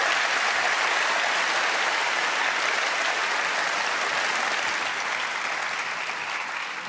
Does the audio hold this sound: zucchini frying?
no